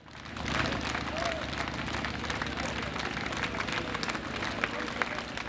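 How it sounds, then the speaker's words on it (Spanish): Crowd applause greets the start of Alberto Nisman's funeral procession in the street, a dense, sustained patter of many hands clapping at a distance. "Con estos aplausos comenzó el cortejo fúnebre de Alberto Nisman."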